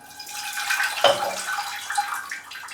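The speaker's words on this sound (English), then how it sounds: "We'll give it some water." Water poured onto a potted plant on a display shelf, a steady close splashing trickle that starts with a sharper splash about a second in and keeps running to the end.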